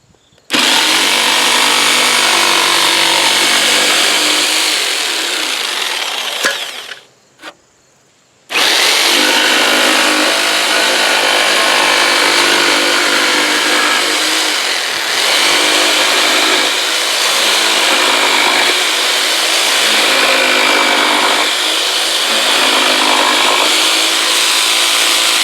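Jellas 800W electric jigsaw cutting through wood, a loud, rough buzzing rasp that runs steadily, breaks off briefly for a moment, then resumes for a long continuous cut.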